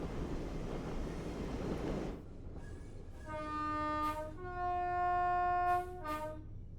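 An Azuma train in Train Sim World 5 powering away from a station, a rising motor whine with a clear tonal hum building and holding after a spell of rushing noise, close and loud with no talking.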